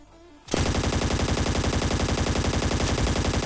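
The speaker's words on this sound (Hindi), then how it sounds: "अब देखो गन साउंड तो भाई सामने की साइड भी आ रहे थे, और कुछ बंदे राइट से भी गोली वगैरह चला रहे होते हैं" Rapid automatic gunfire from a video game shooter, with enemies firing from the front and the right, bursts in after a quiet start and continues as a loud, dense, steady rattle of shots, with no voices.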